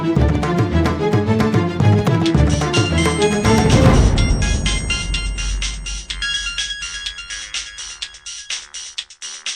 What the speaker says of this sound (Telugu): రాధ ఫోన్కి ఎవరో కాల్ చేస్తున్నారు, చూద్దాం.